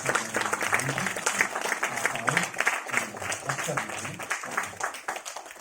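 Audience applause welcoming a speaker at an 88th birthday celebration for a senior writer, a dense continuous round of clapping from a crowd, with a voice speaking over it.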